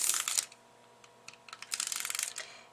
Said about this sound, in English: So we're going to get some tape on here